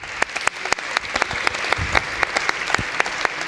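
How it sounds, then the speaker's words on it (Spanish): Warm audience applause in a hall after a talk at a panel session, dense steady clapping with sharp individual claps standing out, no speech. "agradecer ese caluroso aplauso"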